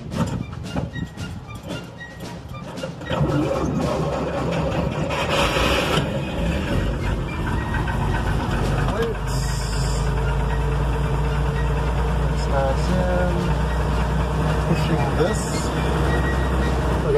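A Dodge WC-21 half-ton truck engine runs steadily with a low, continuous drone, rising slightly as it labors up a hill, with brief mechanical clanks and rattles layered over it.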